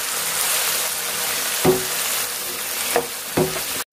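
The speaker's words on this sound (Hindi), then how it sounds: "तो चने की दाल और लौकी को हमने अच्छे से मिक्स कर लिया है" Chana dal and bottle gourd fried and mixed together in a pan, a continuous loud sizzle broken by three sharp spoon knocks against the pan, no talking.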